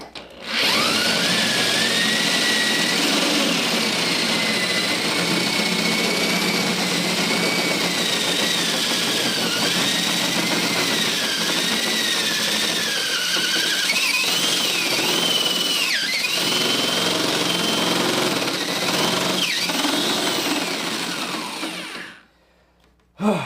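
A power drill runs continuously and loudly for over twenty seconds, its whine wavering under load as it bites, then stops abruptly.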